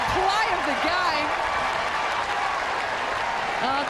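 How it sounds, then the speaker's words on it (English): Crowd applause at a New Zealand v Barbados netball match, a loud sustained wash of clapping filling the whole stretch while a commentator talks over it. "The crowd respond."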